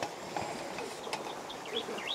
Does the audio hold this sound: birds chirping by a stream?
yes